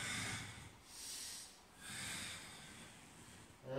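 Slow breaths during a Pilates exercise: two soft, drawn-out airy exhales about a second apart, close and quiet, with a sharper intake at the end and no talk.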